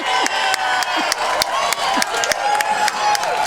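A pickleball crowd at a pro men's doubles bronze match at the US Open applauds and cheers loudly after a long rally, with steady dense clapping and occasional shouts throughout.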